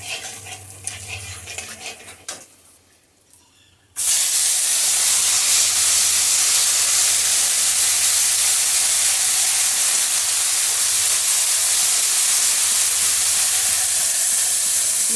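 Spices hitting hot oil just after asafoetida goes in for hing kachori, a sudden loud sizzle that bursts in after quieter kitchen clatter and then holds as a steady, close hiss.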